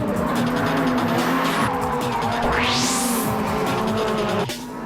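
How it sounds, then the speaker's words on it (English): D1 drift cars performing an exhibition drift, with loud, continuous engine roar and sustained tire squeal close by, a rising engine whine sweeping up midway before the noise drops off at the end. "For the first time this year, there was even a drifting exhibition performed by D1 drivers."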